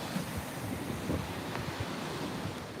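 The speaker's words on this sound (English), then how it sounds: "It's always waves, as you can see." Ocean waves roll onto the beach in a continuous wash of surf, with steady wind buffeting the microphone and faint low thumps as the water breaks. No one talks.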